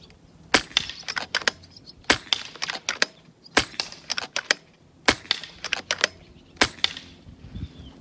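Rapid rifle shots on a shooting range crack out in quick irregular clusters, sharp and loud, with brief pauses between bursts over eight seconds and no talking.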